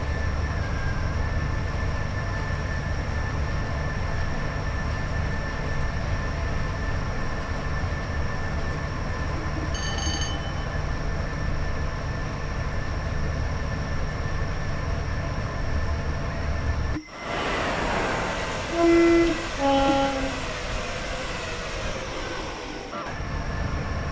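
A BLU Class 87 electric locomotive in Train Sim World 5 hauling an express on the West Coast Main Line from Preston to Carlisle, a steady droning hum with a high whine, turning to rattling wheel and track noise toward the end.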